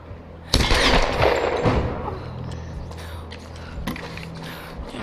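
Gunfire in the Tomb Raider video game comes as a sharp burst of shots followed by a later single crack over a dense, noisy action soundscape, loud and close, with no clear speech.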